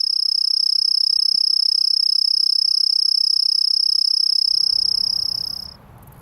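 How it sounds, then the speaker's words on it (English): A katydid gives a steady, loud buzzing call close by. The high, unbroken drone holds for over five seconds, then cuts off abruptly with only faint background noise left. "katydids create more of a buzzing sound"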